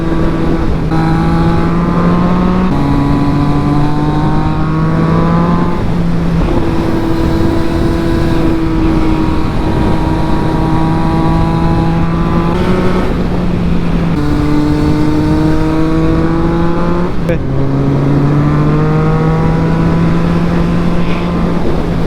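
A motorbike engine drones loudly and close while riding, its pitch climbing in steady pulls and dropping at each of several gear shifts, with wind buffeting underneath and no talk.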